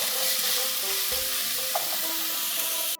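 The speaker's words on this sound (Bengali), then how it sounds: "এতে এবার একটা বড় পেঁয়াজ কুচনো দিচ্ছি।" Chopped onion frying in a pan over a medium-low flame, a steady close sizzle running the whole time with faint stirring scrapes and no talking.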